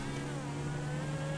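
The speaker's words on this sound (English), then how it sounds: "Good engine sound." A GTA FiveM race car's engine revving, a steady loud tonal drone holding at high revs for a brief moment, close and alone.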